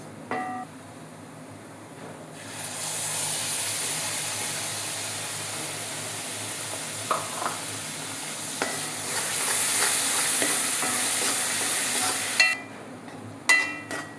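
A loud, steady sizzling hiss erupts as ground tomato paste hits hot oil with frying spices and keeps frying, with a few light clinks and scrapes near the end.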